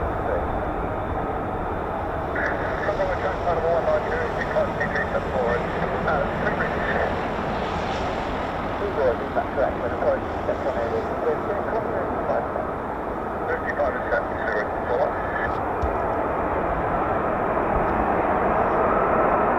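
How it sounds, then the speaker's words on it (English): F-35B stealth fighter jets taxiing near the hangars at a naval air station produce a steady, distant broadband engine roar that holds throughout, with people talking over it. "Definitely hear more F-35s down the bottom there."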